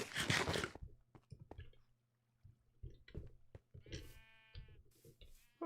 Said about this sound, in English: You have sheep in here. Why do you have sheep in there?